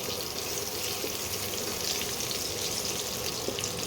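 Potatoes frying in a pan with turmeric, a steady, dense hiss and sizzle that stays loud and even throughout, no voices.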